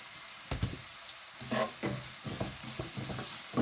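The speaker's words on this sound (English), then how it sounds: "And just fry them until they're a bit soft." Chickpeas from two tins, salted, frying in a pan: a steady sizzle with a few clustered scraping stirs, close and moderately loud, with no voices.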